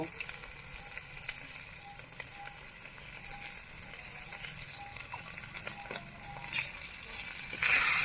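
Spices with turmeric and salt sautéed in a pan for a village-style egg vada curry: a steady soft sizzle with light scraping of a spatula, growing louder and hissier toward the end.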